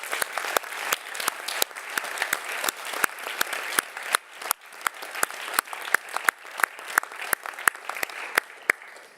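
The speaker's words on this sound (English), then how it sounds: "give a strong round of applause to these Commission presidents" Audience applause at an international lawyers' congress closing ceremony in Florence, with individual claps standing out sharply in an uneven, moderately sized round that carries on for several seconds.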